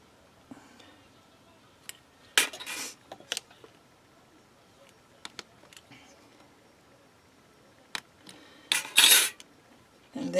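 A blade cuts through a polymer clay cane into one-inch segments, heard as sparse sharp taps and clicks of the knife meeting the work surface, separated by quiet pauses.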